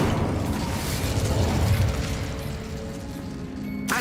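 The Incendio fire spell cast in Hogwarts Legacy gives a loud, steady roaring whoosh of flame with a deep rumble that holds for about four seconds and eases slightly near the end.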